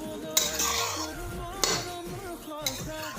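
A metal spatula scrapes and knocks against a wok while carrot laddu with sugar cooks, with three sharp clanks spaced apart over sizzling and scraping.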